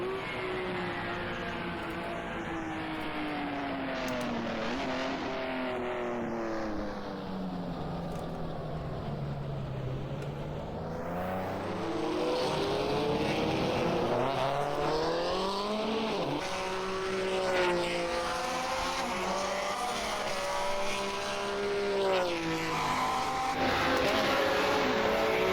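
A 1950s Grand Prix race car engine in a racing video game at Rouen-les-Essarts revs loudly and continuously, its pitch climbing and dropping through the gears with occasional tire squeal. No limiter cuts it off.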